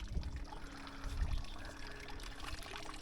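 A garden waterfall feature at a villa pours steadily, giving a faint, continuous rushing trickle in the open air with soft low rumbles.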